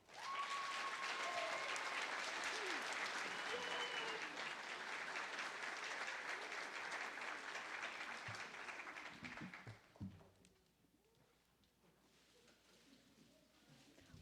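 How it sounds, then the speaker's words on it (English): An audience of families claps for a second-grade musical at a primary school, a full sustained round of applause that gradually thins and fades out, leaving a quieter room with a few scattered sounds. "Give a nice round of applause to Farmer Majak"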